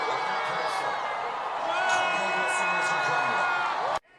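Citizens at an impeachment rally in Yeosu cheer and whoop as the vote passes, a loud sustained crowd roar with shouts rising over it before cutting off abruptly.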